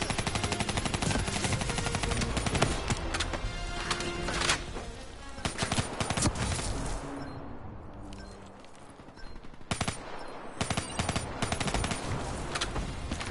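Gunfire in the shooter game Black Ops 3: long, dense bursts of rapid automatic shots that run almost continuously, easing briefly around the middle before returning at full intensity.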